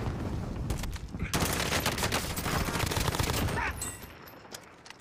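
A weapon in a video game fires a long rapid automatic burst, loud and close, the dense chatter of shots continuing for several seconds before cutting off into quieter game ambience.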